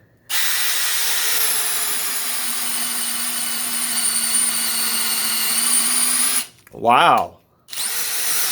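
A DeWalt Xtreme 12V brushless sub-compact drill in first gear bores through wood with a 1-inch spade bit, a steady loud whine for several seconds that cuts out, followed by a short exclamation.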